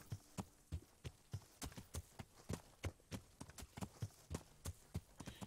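Hooves clip-clop in a steady, slightly uneven rhythm as a horse is ridden in Kingdom Come Deliverance, dozens of distinct thuds at moderate volume with no talk over them.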